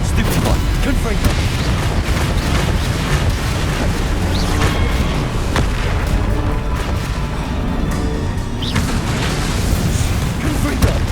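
Fire spell explosions from Confringo in Hogwarts Legacy: dense, loud rumbling booms and bursts blend into a constant roar of combat, with speech mixed in.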